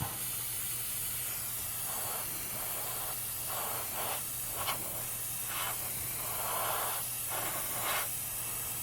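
Short hissing bursts of spray paint onto a model car hood of a 1965 Dodge Coronet, repeated several times with brief pauses between, fairly quiet over a low steady hum.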